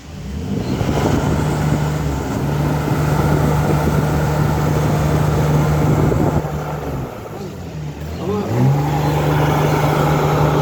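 Car engine revving with an exhaust clogged by hardened material, a loud steady droning hum held for several seconds, dipping briefly and rising again, with people talking over it.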